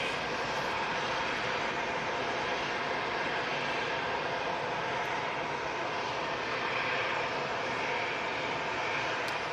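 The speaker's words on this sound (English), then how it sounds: "Virgin A330-300" Virgin Atlantic Airbus A330-300 airliner rotating on takeoff, a continuous broad jet-engine roar heard from a distance that holds steady throughout with no talk.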